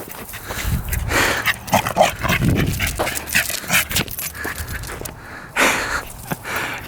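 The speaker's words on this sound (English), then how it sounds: "Crazy dog." A dog pants and snuffles close up in rapid, irregular bursts with small whimpers mixed in, loud and near, outdoors beside a 450cc dirt bike.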